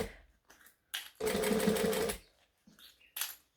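A sewing machine runs in short bursts while stitching a sewing tutorial project, with one sustained whirring run of about a second in the middle and brief stop-start stitches around it, close and clear.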